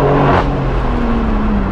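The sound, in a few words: BMW M4 with full straight-pipe exhaust revving while shifting gears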